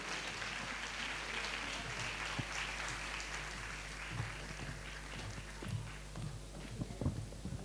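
A congregation at a ladies' church meeting applauds, a faint, even patter of many hands clapping that holds throughout.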